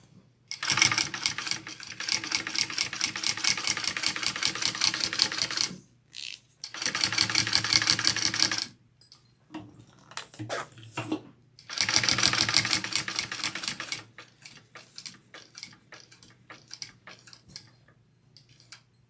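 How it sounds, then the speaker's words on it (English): A sewing machine stitches along the bottom edge of a handbag in three long steady bursts of rapid, even mechanical clatter, separated by short pauses filled with softer handling clicks and rustles. "we're going to just sew this bottom edge"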